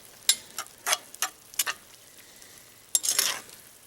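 Chili ingredients cooking in a pot, with a faint sizzle beneath several short, close clattering bursts of stirring and scraping, spaced irregularly, with no one talking.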